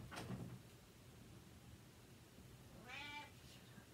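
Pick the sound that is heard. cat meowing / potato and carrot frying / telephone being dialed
cat meowing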